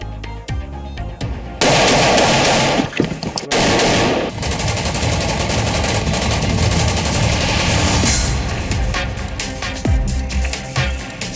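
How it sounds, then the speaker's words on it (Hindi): Gunfire across the India-Pakistan border near the RS Pura and Arnia sectors comes as loud, sustained machine-gun bursts that rattle almost without a break, thinning to scattered shots near the end. "इस बार दिन में भी फायरिंग कर रहा है।"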